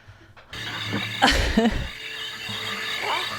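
Frogs croak and crickets chirp in the night ambience of the video game Psychonauts, a steady close background chorus with a few louder rough bursts partway through.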